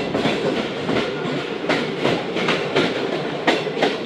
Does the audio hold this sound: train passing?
yes